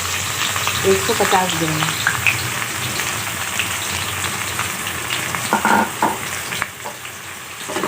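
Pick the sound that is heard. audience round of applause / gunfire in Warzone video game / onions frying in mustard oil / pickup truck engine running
onions frying in mustard oil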